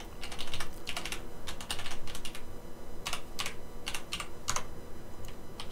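Typing on a computer keyboard to enter a login, bursts of rapid close key clicks separated by short pauses, alone with no talk.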